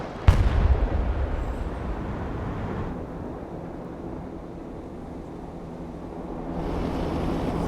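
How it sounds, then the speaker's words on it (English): Naval air-defense gunfire in the military strategy game Broken Arrow, firing to shoot down incoming Patriot missiles: a sharp opening blast, then a sustained roar of fire that dips midway and swells again. "He's shooting at something"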